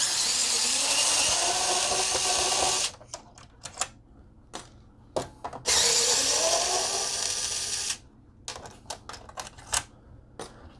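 An electric screwdriver backs Phillips screws out of a PlayStation 4 power supply in two long whirring runs, each followed by small clicks and taps as parts are handled, with no talk.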